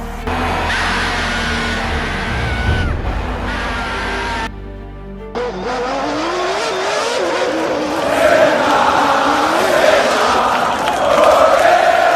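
Formula 1 cars racing at speed past a cheering crowd, engines roaring loud and continuous with rising and falling pitch, a brief drop in the middle, then crowd noise swelling beneath the engine howl.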